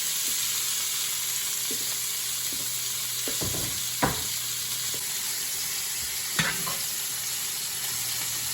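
Red and orange peppers with garlic frying in a flavored pan, a steady close sizzle and hiss throughout, punctuated by a few soft clicks and scraping stirs.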